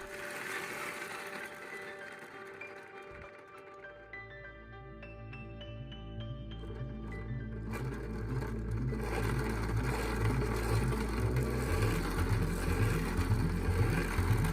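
A 3D printed gearbox spun fast by hand, a steady mechanical whir of meshing plastic gears that rises in pitch and grows louder as the speed builds, with no talk.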